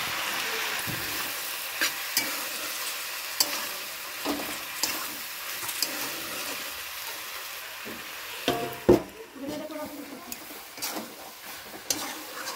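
Jackfruit curry with chilli powder and a splash of water cooks in a pan, with a soft bubbling fry under irregular spoon scrapes and taps against the pan.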